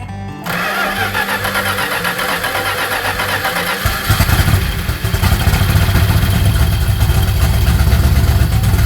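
A Plymouth Road Runner engine cranks and catches, then runs loud and rough, its rumble deepening and growing stronger as it settles into a steady run, close by with no talk.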